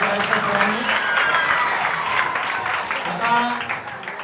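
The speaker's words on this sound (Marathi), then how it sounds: "त्यांचंही एकदा जोरदार टाळ्या वाजवून त्यांनी स्वागत करायचं सर्वांनी." An audience at a talent hunt prize distribution claps loudly and steadily to welcome guests, a close, sustained burst of applause that fades slightly toward the end.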